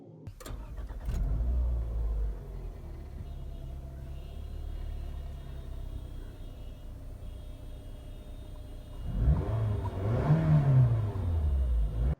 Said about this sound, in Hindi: अब हम गाड़ी को स्टार्ट कर लेते हैं।